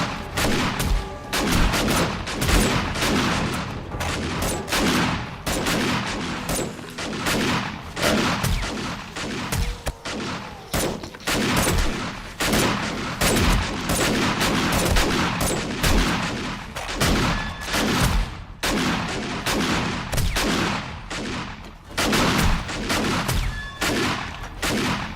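Rapid gunfire in the video game 7 Days to Die, dense continuous shots and bursts for the whole stretch, loud and close.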